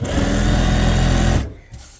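A sewing machine runs fast and loud, stitching a lace strip onto a dupatta, then stops abruptly after about a second and a half, leaving a few faint handling noises.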